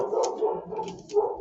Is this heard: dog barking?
yes